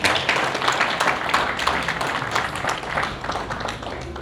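Audience at a Ghanaian Muslim entrepreneurs and business summit clapping in a steady, dense round of applause that stays loud throughout, with no voices over it.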